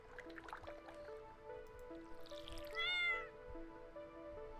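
A cat in the Stardew Valley video game gives a single clear meow partway through, over a bright, plinking game music loop.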